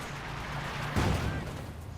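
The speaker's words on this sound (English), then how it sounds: "Bit of artillery firing." Artillery in the Company of Heroes 2 strategy game fires a single muffled boom partway through, set against a steady background wash of battle ambience and game noise.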